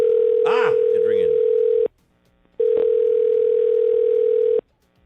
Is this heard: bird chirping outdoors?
no